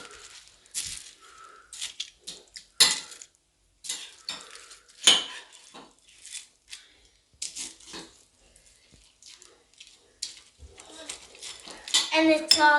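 A spoon stirs warm milk into a breakfast mixture in a bowl, making a run of close, uneven clinks and scrapes against the dish, separated by short quiet gaps.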